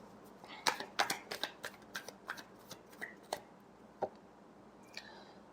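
Tarot cards being shuffled by hand, a run of crisp, close riffling snaps and flutters in quick irregular bursts, fairly quiet with no talking.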